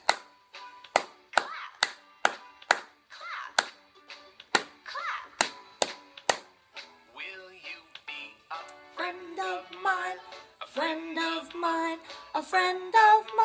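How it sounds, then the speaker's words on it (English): Sharp, evenly spaced hand claps ring out one by one along with a children's song, then give way to sung vocals with lighter claps mixed underneath. "Let's clap hands. Clap, clap, clap."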